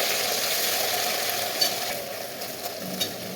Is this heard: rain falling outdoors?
no